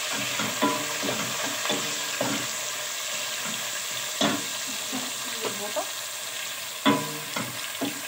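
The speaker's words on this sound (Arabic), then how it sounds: "دابا غندير هذاك التحميره او الفلفل، معجون الفلفل والثومه ضروري الزيت باش يتفلفل" Pepper paste and garlic frying in hot oil, a continuous crackling sizzle broken by repeated spoon-against-pan stirring knocks, a few sharper clacks standing out.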